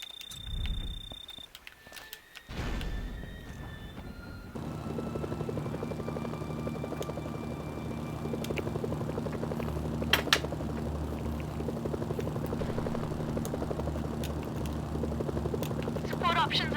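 A helicopter in the video game Mercenaries: Playground of Destruction whirs steadily with a rhythmic rotor chop. It begins after a few seconds of other game sounds and continues at moderate volume under a voice.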